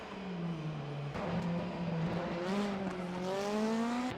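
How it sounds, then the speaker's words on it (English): A DTM race car engine revs high and steady, its pitch rising and falling as the rear tires spin, loud and close with no voices. "you can just hear the rear tires spinning up there as well"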